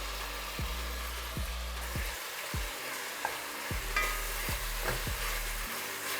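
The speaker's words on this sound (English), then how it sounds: "Oil is now hot. I'm gonna add the meat." Seasoned carne asada meat frying in hot oil gives a steady, close sizzle, with a low rumble cut by several regular pauses and a few faint clinks of stirring.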